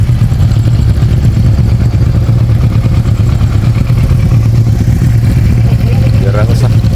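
Motorcycle engines from a riders club gathering for a Mindanao loop ride toward Cagayan de Oro, a steady close idle rumble with clattering under people chatting in the background.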